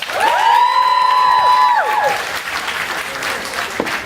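A crowd at a charity bash claps and cheers loudly, with a sustained high whoop or shout over the applause at first, then clapping carrying on alone, close and full.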